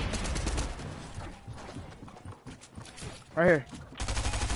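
SMG gunfire in Fortnite, rapid bursts of shots at the start and end with a brief mechanical clatter between, under a speaking voice.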